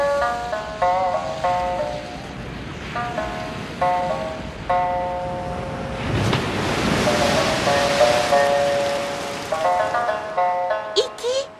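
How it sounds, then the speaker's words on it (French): Ocean waves surge and wash in a loud rush midway through an animated cartoon scene, under a repeating tinkling musical jingle and spoken dialogue. "T'as surtout entendu les vagues."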